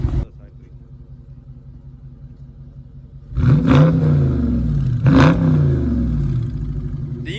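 A 2020 Dodge Charger 392 Hemi Scat Pack with its 6.4-liter engine idles with a low, steady rumble, then revs hard twice in quick succession, the roar swelling and settling back to a raised idle.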